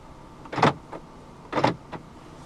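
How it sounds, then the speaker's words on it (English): The central locking of a 2014 BMW X3 xDrive20i actuates twice, each a short, close mechanical clunk with a faint whirr, the two spaced about a second apart in a quiet cabin. "Central locking."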